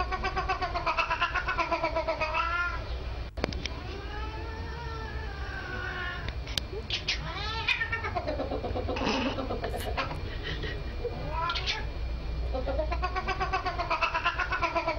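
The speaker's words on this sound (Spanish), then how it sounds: "quien sea que esté utilizando el gato para disparar maullidos" A cat meows over and over in loud, close, drawn-out wails with a rapid rhythm like gunfire, from a funny internet clip shown on a news program.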